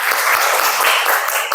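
Classmates who have just presented are applauded by an audience, a burst of dense, fairly loud clapping that carries on steadily and unbroken.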